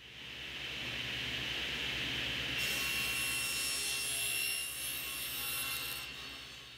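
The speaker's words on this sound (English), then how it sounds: "The next step in this project is to cut the 1/4 inch plywood for the flat panels." A saw cuts 1/4 inch plywood panels for a bookcase, its motor humming steadily before the blade bites into the sheet with a louder, harsh, rasping whine that lasts several seconds.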